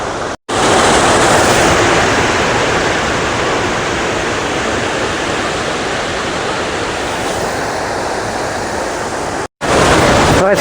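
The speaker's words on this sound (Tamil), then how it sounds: "அதிரம்பள்ளி ஃபால்ஸுக்கு வந்தாச்சு" Athirappilly Falls pours with a loud, steady roar of rushing water, a broad unbroken wash of noise heard up close and alone, with two very short dropouts.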